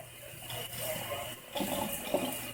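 Tap water runs steadily while a child's hair is washed, the gushing rising and dipping as the stream is moved or broken up, close by and without talk.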